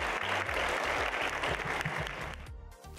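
Applause from a school event crowd, a dense burst of clapping that holds for a few seconds and then drops away sharply.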